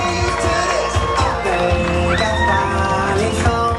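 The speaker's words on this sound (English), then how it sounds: "Big round of applause once again." Wedding guests cheer, whoop and shout in a lively crowd, with loud continuous celebration filling the room and voices mixed throughout.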